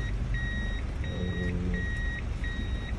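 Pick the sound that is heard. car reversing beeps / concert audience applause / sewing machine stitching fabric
car reversing beeps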